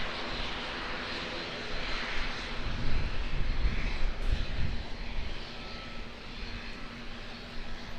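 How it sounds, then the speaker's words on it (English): An Air New Zealand Dash 8 Q300 turboprop on short final into Auckland Airport gives a steady, moderately distant engine drone that swells slightly midway. "Looks like a Dash 8"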